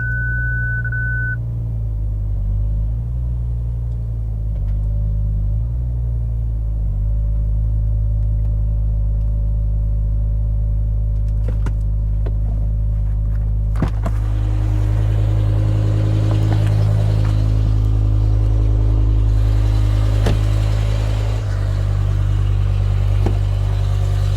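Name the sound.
diesel car engine running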